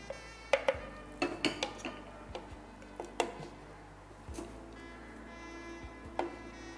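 Mixed fried rice scooped from the pan into a serving dish: scattered clinks and taps of a spoon against pot and plate, soft scraping and shuffling between them, close but fairly quiet, with no talking.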